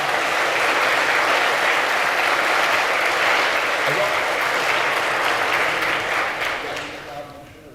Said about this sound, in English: Give a round of applause to our presenters